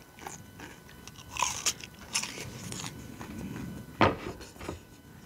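Someone bites and chews the cartilage of very spicy country-style chicken feet, giving wet crunches and cracks with one sharp crunch near the end, close and quiet, no talking.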